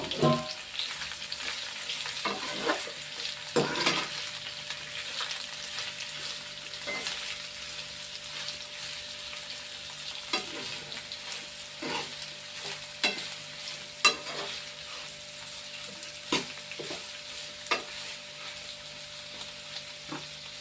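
Chilies and onions sizzle in a pan at a moderate level while a spoon stirs them, making repeated scraping and clattering sounds, and no one speaks.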